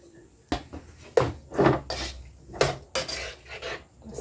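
Metal cookware clatters and scrapes as pork menudo is tipped from a small frying pan and spooned into a larger pot, with uneven knocks and shuffles at close range.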